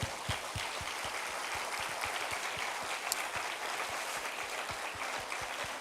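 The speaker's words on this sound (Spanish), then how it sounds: "Le damos un aplauso al Señor" A church congregation applauds during a service, a steady wash of clapping heard somewhat distant and even in loudness throughout.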